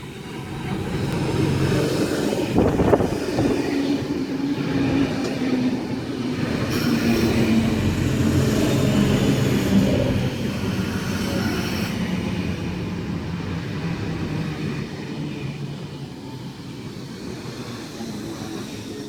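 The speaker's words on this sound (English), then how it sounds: "We have a veteran S set arriving on platform number 2, City Circle via Bankstown service." A veteran Sydney S-set suburban train rolls into platform 2, heard as a sustained low rumble with a rising and falling motor whine, a sharp clunk early on and brake hiss as it slows, no talking.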